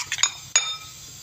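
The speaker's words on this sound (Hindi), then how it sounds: "ऐसे मिक्स कर लेंगे।" A spoon scrapes and clinks against a bowl while batter for gobi 65 is mixed with hot oil, a few brief close metallic chinks with quiet pauses between them.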